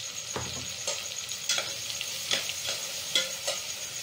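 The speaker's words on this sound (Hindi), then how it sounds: "इस मसाले की जो है हमने भुनाई बहुत अच्छी तरह से करनी है" Masala spices roasting in a pan for a mixed vegetable dish, a steady bright sizzle with periodic scraping strokes of a spoon stirring every half second or so, close and alone with no talk.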